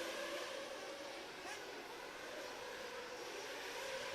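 Nitro RC buggy engines whine at a Pro Nitro Buggy race at Benton BTS Arena, a continuous buzzing drone from several cars lapping the track, steady and moderately distant.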